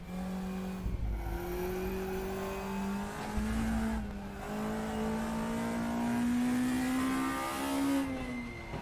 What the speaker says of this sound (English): Just love the raspiness of that engine note.